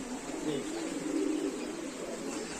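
Soft, low cooing of local deshi pigeons rolls on briefly against a faint hiss.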